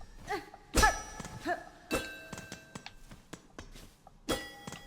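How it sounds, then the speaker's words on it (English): Bells ring in Hollow Knight: Silksong, a series of sharp metallic clangs with ringing overtones, struck irregularly several times and fading between hits, close and clear with no talk. "I forgot about the bells."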